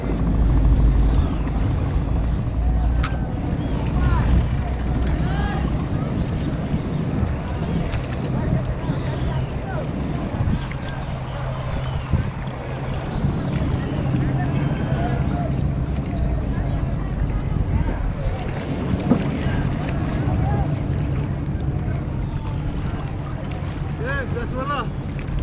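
A wooden rowing boat moves along the Ganges at Banaras, with continuous low water and wind rumble and occasional creaks, under people talking for most of the time.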